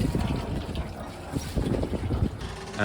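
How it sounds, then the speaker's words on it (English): Cooling water gushes and splashes steadily from the engine outlets on both sides of a Fountaine Pajot Isla 40 catamaran, a continuous close wash with an engine rumble beneath. "do make sure that water is coming out, plenty of water is coming out, as you can see there for both sides"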